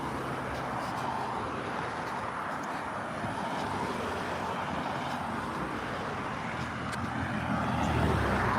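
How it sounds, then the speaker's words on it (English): Cars pass by on a road at rush hour in a steady, moderately distant rumble of engines and tyres, growing louder toward the end. "Lots of cars coming in"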